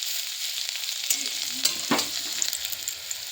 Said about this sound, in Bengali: এবার এই তেলেই দিয়ে দেবো রসুন থেতে রসুনটা একটু হালকা লাল লাল করে নিই